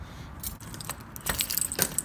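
A bunch of keys jangles and clinks in short bursts, fairly close and quiet, with faint car or road noise in the background.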